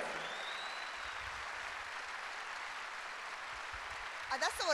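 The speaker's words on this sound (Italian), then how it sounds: "Fate un applauso alle forze dell'ordine che sono qui." Applause for the police at a televised Italian political talk show, a steady wash of clapping from the studio audience filling the whole stretch, with a voice coming in at the end.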